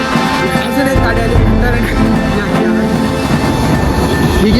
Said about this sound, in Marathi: अजून एक गाडी आली.